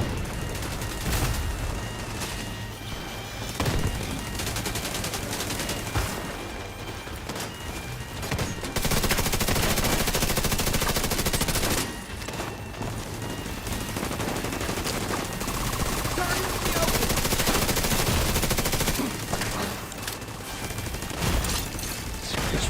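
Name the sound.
gunfire in the video game The Division 2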